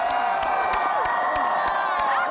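A crowd of people cheers and whoops in celebration at an Oklahoma home-makeover reveal, a sustained, dense roar of shouting voices with a few sharper bursts standing out.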